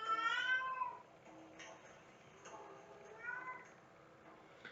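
A worked-up cat meows several times, loud and close at first, then repeats in softer drawn-out calls with quiet pauses between.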